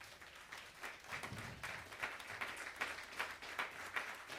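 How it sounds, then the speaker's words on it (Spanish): A church congregation claps in praise during a sermon, a faint, distant patter of many hands that settles into a steady rhythmic beat after a couple of seconds. "Dan un aplauso al Señor."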